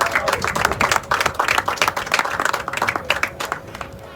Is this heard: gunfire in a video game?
no